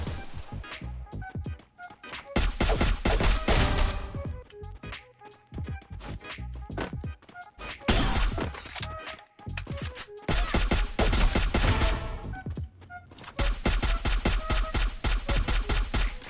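Rapid automatic gunfire bursts from a Free Fire match, loud repeated volleys separated by short gaps, with shouting voices reacting between shots.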